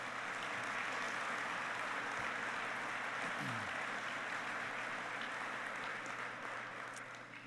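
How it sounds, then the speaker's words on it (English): Applause from an audience honoring Army aviators at a formal military address, a steady dense wash of clapping that holds throughout and eases slightly at the end. "So please, a round of applause for all of our aviators on point for the nation"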